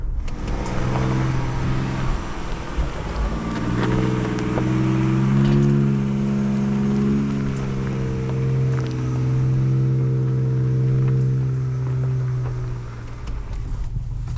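A 2025 Ford Ranger Raptor pickup reverses off-road with a steady, moderately loud engine drone that rises and holds as it backs up, with no talking.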